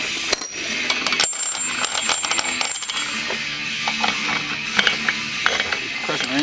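A press wrench is tightened to compress the secondary clutch spring of a Kawasaki Brute Force, with snap ring pliers nearby. Close metallic clicks, clinks and ratcheting mechanical sounds come in irregular bursts.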